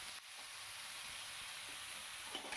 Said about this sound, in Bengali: লবণ আর হলুদ দিয়ে বেগুন আর আলুটাকে সুন্দর করে নাড়িয়ে চাড়িয়ে নেবো